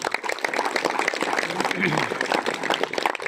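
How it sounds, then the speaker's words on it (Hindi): Audience applause for guests at a Charsadda cricket league ceremony, a dense wash of clapping running steadily throughout with voices mixed in. "इन सब मेहमानों के लिए एक मरतबा तालियां होनी चाहिए।"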